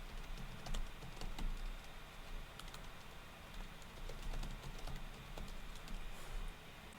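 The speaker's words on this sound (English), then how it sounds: "you can start typing" Rapid, uneven clicking of keys on a computer keyboard, quiet and close, continuing steadily with brief pauses.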